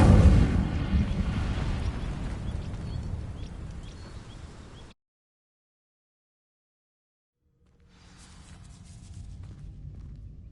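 An Incendio fire spell in Hogwarts Legacy, cast at dry vines, bursts as a loud, deep whooshing blast that rumbles for several seconds, cuts to silence, then a softer crackling burn rises afterward.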